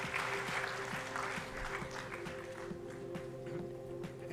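A temple gathering claps for the children in a spread-out, moderately loud round of applause, with a steady hum and a faint rhythmic tapping underneath.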